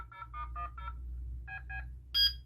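Dialing tones sound from an Intelbras 4015 PBX test handset: four quick tone beeps, a pause, two more, then a higher tone, clear and close over a faint hum.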